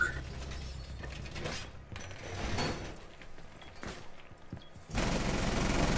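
Shotgun fire in a video game: several sharp blasts mixed with mechanical clatter, ending in a loud burst of noise.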